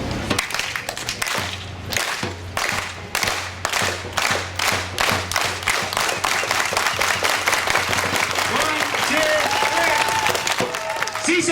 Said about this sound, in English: we're going to start it off slow, we're going to speed it up, and we're going to have one big, loud,